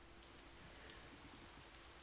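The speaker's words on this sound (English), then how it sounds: "I don't think we've seen rain before till now." Steady rain falls in the Hakuoki: Edo Blossoms video game, a faint, even hiss of drops pattering without pause.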